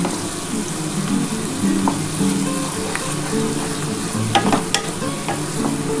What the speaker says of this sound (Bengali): আমার পেঁয়াজটা একটু ভালো করে ভেজে নিই বন্ধুরা